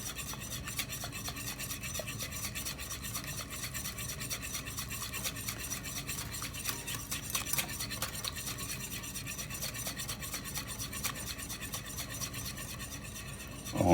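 Oil is whisked into a forming emulsion, producing a continuous fast, even scraping and swishing of a whisk against a bowl, steady and close throughout, with no voices.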